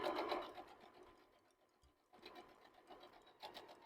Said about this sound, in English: So now I can just go right to sewing.